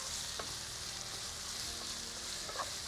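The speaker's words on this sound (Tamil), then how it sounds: "இப்போ இந்த வெங்காயம் நல்லா வதங்கட்டும்" Onion with mint and coriander sautéing in a pan, giving a quiet, even sizzle with a few faint stirring taps, steady and uninterrupted with no talking.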